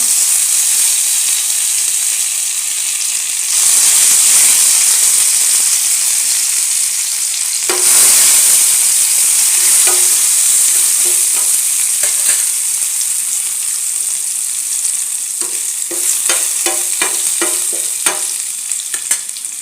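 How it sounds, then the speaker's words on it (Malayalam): Mustard seeds and curry leaves frying in hot oil for a sambar tempering give a loud, steady sizzle, with sharp crackling pops and spatters growing busier near the end. "ഇതെല്ലാം കൂടി നമുക്ക് താളിപ്പിന്നൊക്കെ ചുട്ട് കൊടുക്കാം."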